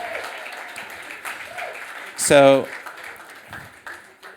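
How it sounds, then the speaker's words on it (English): Audience applause for the hardworking Tari Labs team, a steady wash of clapping that swells briefly, with a short spoken word near the end. "give a huge round of applause for all these hardworking people"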